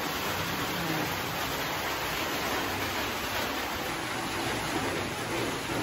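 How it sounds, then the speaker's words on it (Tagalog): Steady rain pours outside, a dense continuous hiss with no pauses and no voices, even and moderately loud throughout. "So, maririnig natin yung ulan."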